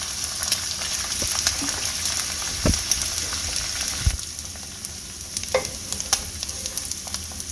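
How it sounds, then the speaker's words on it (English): Two eggs fry in plenty of butter and grease in a pan, a steady close crackling sizzle with a few sharp pops and spatters scattered across it. "So I'm making my fried eggs the way my daughter Emily does."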